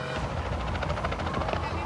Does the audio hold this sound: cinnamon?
no